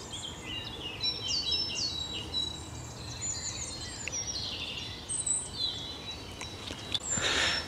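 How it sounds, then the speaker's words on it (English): Several birds sing in a country park woodland, with varied chirps and trills at moderate distance over a steady outdoor background, and a brighter burst of calls near the end. "right now I can hear all the birds singing"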